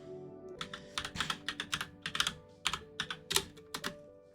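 Close, brisk typing on a computer keyboard, bursts of quick clacking keystrokes with short pauses between runs, heard alone without talk.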